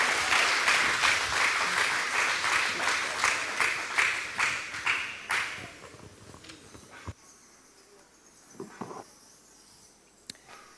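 Audience applause greets a woman taking the stage at a yam and sustainable agriculture symposium, steady clapping for about five seconds before thinning to a few scattered claps and near quiet.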